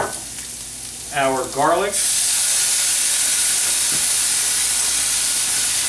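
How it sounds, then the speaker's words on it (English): Chopped shallots, garlic and mushrooms sauté in oil in a pan, giving a loud, steady sizzle and hiss that starts after a brief spoken phrase and carries on unbroken. "In our pan with our oil, we're gonna saute our shallots, our chopped up shallots,"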